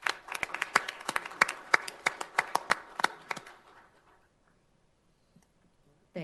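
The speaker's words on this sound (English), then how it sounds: "So let's give them a round of applause for this." Applause at a city meeting, a small group clapping in sharp, distinct claps for about four seconds before it tapers off into near silence, fairly close in a quiet room.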